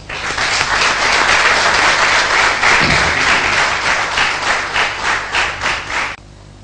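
Audience at a public address breaking into loud, close, sustained applause, rhythmic clapping pulsing throughout before stopping abruptly.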